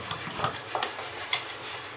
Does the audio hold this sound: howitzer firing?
no